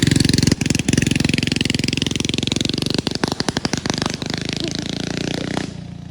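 A loud minibike engine, freshly adjusted at the carburetor, blares close by with a raw, rapid exhaust rattle that stutters into popping bursts midway, then settles back and fades near the end.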